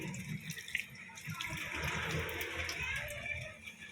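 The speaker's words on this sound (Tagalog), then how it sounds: "Hugasan mong maigi para mawala yung sabon. So, after nito, pag nahugasan mo na ng malinis na tubig" Soapy hands rinsed under a running tap at a sink, a soft continuous stream of water splashing faintly with small irregular drips throughout.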